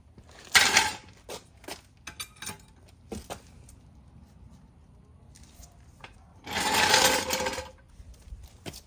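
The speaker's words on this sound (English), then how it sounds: "All right, let's jack up the vehicle. Get my floor jack out." A floor jack lifts a 2008-2013 Infiniti G37S coupe with short bursts of metallic ratcheting and clanking up close, separated by quieter pauses, then a longer rasping burst.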